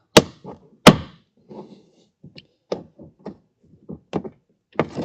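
Plastic door panel clips on a 2026 Kia Sorento front door pried loose with a panel popper tool, giving a series of sharp knocking snaps spaced irregularly over several seconds, close and clear with no talk.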